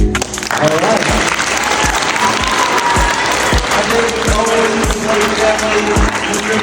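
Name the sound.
audience applause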